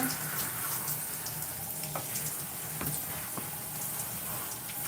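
Running water rinses conditioner out of hair, a steady close splashing stream with small irregular drips and patters throughout, no speech.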